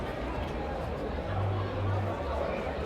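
Dense crowd babble from a large nighttime gathering outside a packed club on a busy downtown Toronto street, a steady wash of many distant voices with a low rumble underneath and no single voice standing out.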